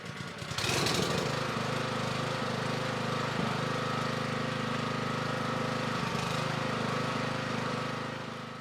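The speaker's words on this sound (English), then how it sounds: "The jet wash was finally working again, and it was time to get cracking." A motor-driven pressure washer starts up and runs steadily nearby, a loud constant droning hum with a hissing spray over it.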